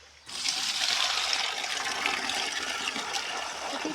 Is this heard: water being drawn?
yes